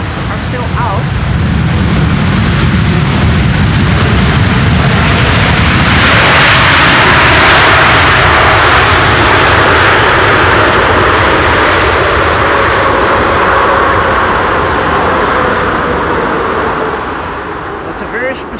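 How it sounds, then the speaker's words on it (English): A Boeing 747 lands at Schiphol with thrust reversers applied, a loud sustained jet roar building into a broad rushing peak before slowly easing off, with a person talking over it. "this was the best landing in the audio department with the reversers being applied"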